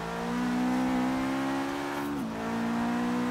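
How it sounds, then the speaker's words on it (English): A battered Subaru STI engine in Forza Horizon 3 holds a loud, steady buzzing rev that climbs slightly, then briefly dips and drops to a lower pitch just past two seconds before settling again. "Gotta love the sound of a Subaru"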